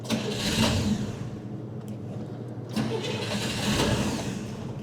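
A 1966 Chevy Corvair engine with a newly replaced ignition coil cranks and fires, then runs in rough, loud surges close by, rising and falling without any voices.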